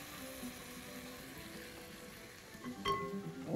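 Shrimp risotto simmers gently in broth, giving a faint, low bubbling sizzle, with a brief scrape of stirring toward the end.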